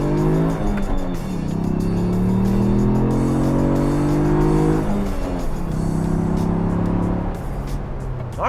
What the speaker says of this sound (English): once you get that little turbo spooled up, it goes, but there is a noticeable kind of lag in between gear shifts